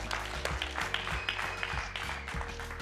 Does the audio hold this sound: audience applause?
yes